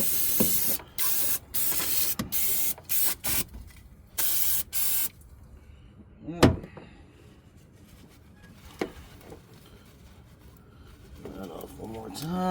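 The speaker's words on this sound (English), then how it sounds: "Use a little bit of brake cleaner to spray off some of this stuff here." Several short bursts of aerosol brake cleaner hiss in quick succession, close by, sprayed onto a Chevy Silverado's engine around the coolant temperature sensor, followed by quieter clinks and handling noises.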